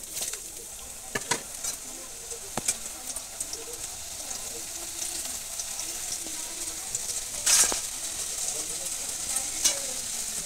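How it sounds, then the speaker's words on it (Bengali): Homemade potato chips deep-frying in hot oil, a steady dense sizzle with occasional clinks of a utensil in the pan, close and continuous. "এইভাবে একদম তেলের উপরে উঠে এলেই তারপর ছাঁকতে হবে সব ভেসে উঠেছে একদম তেলের উপরে"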